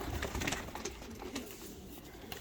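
Pigeons let out of a box give quiet cooing and soft wing flutters, with faint rustling and handling noises nearby.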